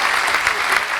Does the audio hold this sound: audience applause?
yes